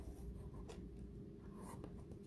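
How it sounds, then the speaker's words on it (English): A pencil scratches a circle onto paper during a kids' button art craft, a soft, continuous close-up graphite scraping with a couple of brief sharper strokes. "I'm going to draw a circle here"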